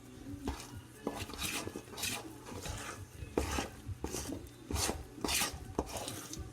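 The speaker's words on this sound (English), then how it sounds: "Mix it up." Raisins mixed into a thick suet pudding batter in a bowl, with soft, irregular scraping and thudding strokes of a spoon against the bowl, close and fairly quiet.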